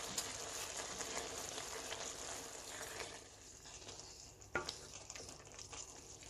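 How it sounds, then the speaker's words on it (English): Green kale wilting in a frying pan, a faint, steady sizzle and hiss with a single sharp clack of a utensil near the end. "So I'm just going to wilt down the kale."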